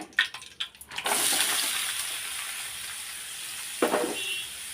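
Chopped onions tipped into a hot pan of fried potatoes: a few quick clatters, then a sudden loud sizzle that settles into a steady frying hiss, with another brief scrape partway through.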